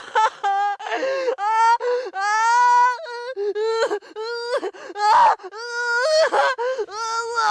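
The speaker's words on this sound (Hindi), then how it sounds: "ऐसी भयानक रोने की आवाज जंगल की सुनसान वीराना को चीरते हुए बहुत ही दुख और दर्द के साथ कोई रो रहा था।" Eerie wailing, crying voice echoing through a deserted forest, a long mournful moan rising and falling in sustained sobbing phrases with brief gasps, close and fairly loud, with no other sounds.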